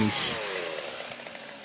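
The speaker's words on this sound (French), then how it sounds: "malgré le bruit engendré par les 9 tronçonneuses" Several chainsaws run together at a woodcarving symposium, cutting wooden logs into sculptures; a steady, continuous buzzing roar that holds throughout, with slight pitch shifts as blades bite into the wood.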